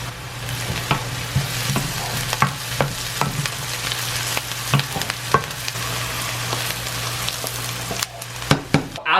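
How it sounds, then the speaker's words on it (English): Onions frying in butter in a pan for a chicken handi kadai curry, a steady close sizzle broken by repeated sharp scrapes and clatters of stirring, with no talking. "At this point, we're basically frying up onions."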